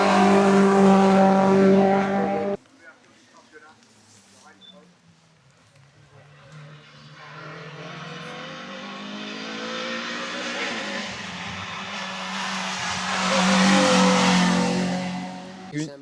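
A Honda race car at a hill climb accelerates past, its engine loud and rising through the gears; someone talks at the start while the engine blares, then the engine drops away and swells again before fading.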